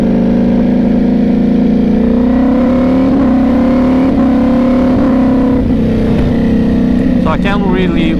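A Ducati Panigale V4 engine runs on a dyno, holding a loud, steady buzzing idle at moderate revs with a slight rattle in the tone and a brief rise toward the end, close up and unbroken throughout.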